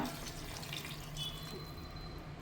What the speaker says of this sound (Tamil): இப்போ தண்ணி கொஞ்சம் ஊற்றிக்கலாம்.